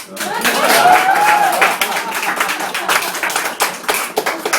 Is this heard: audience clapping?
yes